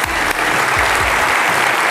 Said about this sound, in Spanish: así que aplausos para ustedes